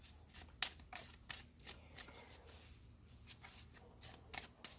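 Tarot cards are shuffled by hand in repeated quick riffles and soft slaps. The sound is close and quiet, with no talk over it.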